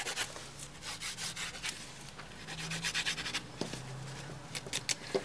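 A nail file rubbing along the edges of the nails after an electric drill, close and quiet, in quick rhythmic strokes of scratchy rasping with brief pauses between sets.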